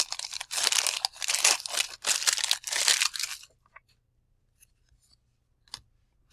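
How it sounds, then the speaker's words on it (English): Several 1989 Donruss baseball card wax packs being torn open, a run of loud close crinkly rips and tears over about three seconds, then near silence with a few small rustles. "2 more packs on this side. We'll start ripping."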